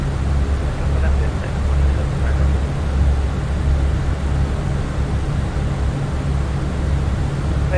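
An Airbus A320 airliner taking off in a flight simulator: a steady, loud, broadband engine roar with low rumble holds throughout, unchanging and without distinct events.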